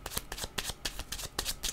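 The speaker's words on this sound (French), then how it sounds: "Je vais demander une carte supplémentaire." Tarot cards are shuffled in close, crisp riffling bursts, about seven quick rhythmic rustles in under two seconds, with no voice over them.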